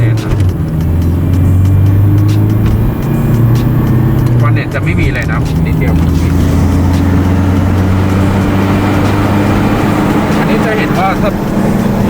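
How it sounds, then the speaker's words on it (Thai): A Toyota Tiger pickup fitted with a Prospeed Shark throttle box accelerates on the road, a loud, steady engine drone with rising tone heard from inside the cab while someone talks over it throughout. "ตอนนี้คันเร่งไม่ได้เหยียบสุดด้วยนะครับขับแบบสบายๆเนี่ยแป๊บเดียวก็ร้อยหนึ่งละ"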